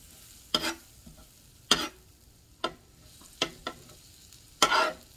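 Salmon fillet and shredded Brussels sprouts cooking in a pan, heard as several separate bursts of stirring and sizzling that start and stop at irregular intervals over a quiet background.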